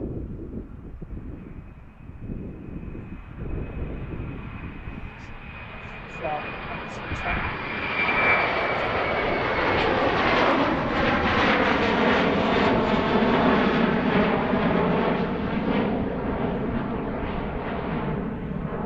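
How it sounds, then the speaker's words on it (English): An airliner takes off at Philadelphia airport. Its jet engines build from a distant whine into a loud, sustained roar that swells close by and holds, with wind buffeting the microphone and people talking under it. "It's just really cool standing here seeing the size of these flights right in front of you and the sounds."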